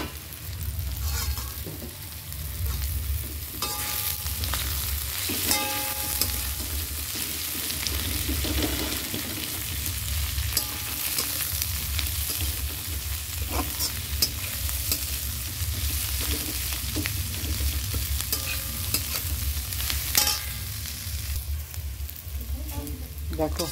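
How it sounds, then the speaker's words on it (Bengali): Onions frying in a pan with continuous sizzling and repeated scraping stirs, a steady close crackle lasting throughout with clinks of the utensil. "দেখো এইবার পেঁয়াজটা দিয়ে দিচ্ছি।"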